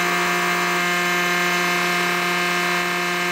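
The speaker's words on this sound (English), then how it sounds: "now I'm going to turn on the bench grinder and just hold this for a few seconds" A bench grinder running while an HSS lathe cut-off blade is sharpened, giving a loud, steady motor whine with a constant hum and even tone, close and uninterrupted for the whole stretch.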